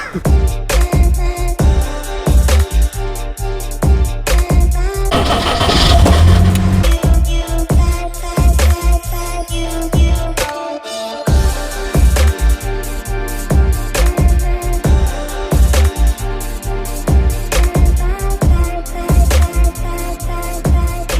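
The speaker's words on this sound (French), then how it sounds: "me voilà au volant de la Jaguar Type E" Jaguar E-Type Series 1 engine running on the move, a loud continuous rumble with rhythmic clattering and knocking throughout, swelling briefly near the middle and dropping out for a moment before resuming.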